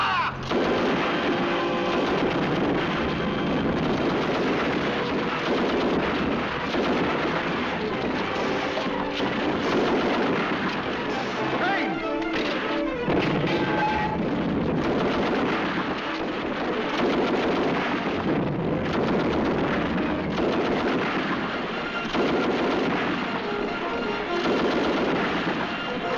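Artillery guns fire in a British war drama about draftees, a dense and continuous barrage of booms and blasts that stays loud for the whole stretch with no pauses, with gunfire layered into the roar.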